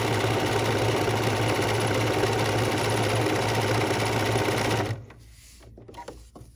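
A sewing machine stitches a serpentine stitch on a fabric ornament. It whirs loud, close and unbroken for nearly five seconds, then stops, leaving faint handling noises.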